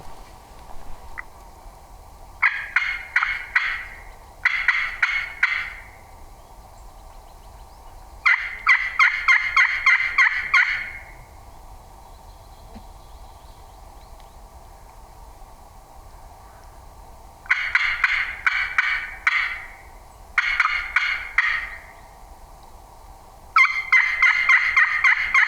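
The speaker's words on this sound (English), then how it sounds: "That was him that gobbled" Wild turkey gobbling on a Minnesota ridge: repeated rattling gobbles in bursts of several, fairly loud and carrying, separated by quiet gaps over a steady hum of outdoor ambience, with no talking.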